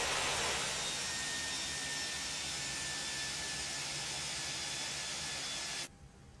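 Steady, loud roar of jet engine thrust reversers on a Toli A319 in the X-Plane 11 flight simulator, a broad, even rush that holds for about six seconds and then cuts off abruptly to near silence.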